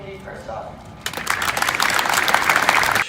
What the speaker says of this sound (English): So let's please give a round of applause to all of you and this amazing community first off.